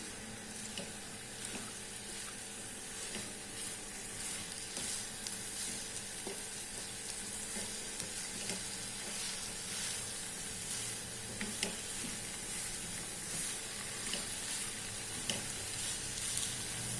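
Steady, dense sizzling of capsicum and cabbage stir-frying over high heat in a hot pan, with crackles and occasional clinks of stirring throughout, close and fairly loud.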